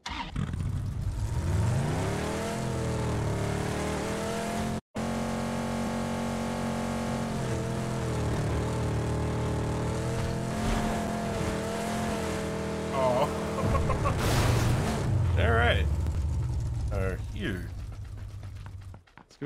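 A PUBG vehicle engine drones steadily and loud for the whole stretch, revving and shifting pitch, with a brief dropout early and tire noise and other game sounds layered toward the end.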